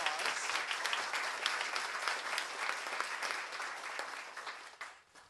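Lecture audience at the Marin Civic Center breaks into sustained applause, dense clapping at a steady level before tapering off near the end.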